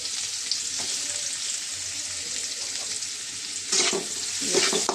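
Chopped onions frying in a pan, a continuous hissing sizzle with occasional stirring scrapes and a louder burst of crackling near the end, close and steady without any speech.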